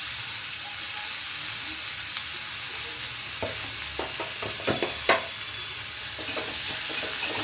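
Chopped onion and capsicum fry in a pan with a steady broadband sizzle, broken by several sharp clinks and scrapes of a spatula stirring near the mic. No one speaks.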